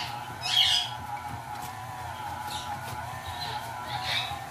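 Pearly and green-cheeked conures squawk in a home kitchen during baking, sharp shrill calls repeating at intervals over a steady background hum, moderately distant.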